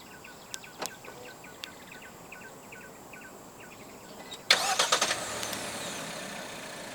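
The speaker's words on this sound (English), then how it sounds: "Standard for the X50 in Malaysia is a remote engine start system." A 2025 Proton X50 1.5 TD Flagship engine cranks and fires up via remote start after several faint beeps and clicks, settling into a steady nearby idle.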